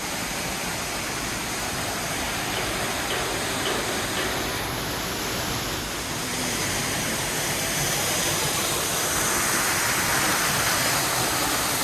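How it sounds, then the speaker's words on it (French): A steady, loud roar of falling water fills the whole stretch, broadband and continuous like standing close beside a waterfall in Furong, in Miao country. "On peut même passer sous la cascade."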